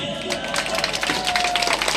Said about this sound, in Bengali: আব্বা মায়ের দোয়ার জন্য একটু করতালি